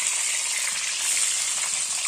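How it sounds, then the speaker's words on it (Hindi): A batch of boiled eggs fries in hot oil in a pan, a loud, dense, continuous sizzle that crackles steadily throughout. "बचे हुए अंडे को भी हम फ्राई कर लेंगे।"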